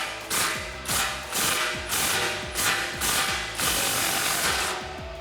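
A ratchet with a 15mm socket tightens an exhaust clamp on a 2019-2022 RAM 1500 with a 5.7L engine, giving close, loud repeated bursts of rapid clicking in a steady back-and-forth rhythm, alone without speech.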